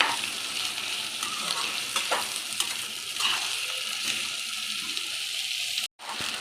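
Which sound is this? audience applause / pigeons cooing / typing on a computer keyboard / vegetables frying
vegetables frying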